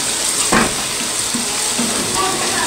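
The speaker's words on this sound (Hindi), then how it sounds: "इधर साड़ा सालन भुनिया जा रहा है" Curry frying in a pan as frozen spinach goes in, a steady loud sizzle with a brief stirring scrape near the start.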